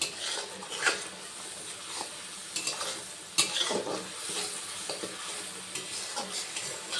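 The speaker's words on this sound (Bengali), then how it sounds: "জল দেওয়ার পরেও একটু ভালোভাবে নাড়ে চাড়ে কষিয়ে নেবো" Katla fish curry being stirred and sautéed in a pan after water is added: a spoon scrapes and clinks against the metal pan in irregular strokes over a steady sizzle, nearby, with no talking.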